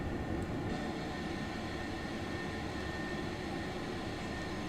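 An aircraft departs Gatwick in Microsoft Flight Simulator, a steady broad engine roar holding at a constant moderate level throughout.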